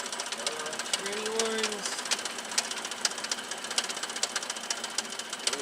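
A car's AC pump clacks in rapid, steady ticks while the engine runs after a radiator install, a dense mechanical rattle close by with brief speech partway through.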